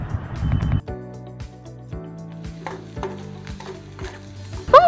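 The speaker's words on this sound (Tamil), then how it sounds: "வெங்காயத்தை நல்லா பொன்னிறமாக வதக்கி விட்டுருங்க," Onions sauté in a pan for a chilli bread snack, a soft sizzle beneath repeated scraping and stirring strokes from a spoon, with tonal clanks and a brief sharp scrape near the end.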